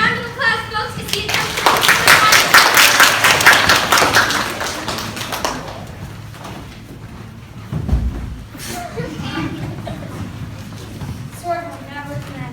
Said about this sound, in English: Let's give him a round of applause, folks